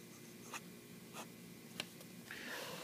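A Nakaya Neo Standard fountain pen scratches faintly across paper in a few short, soft strokes, quiet and close with no voices.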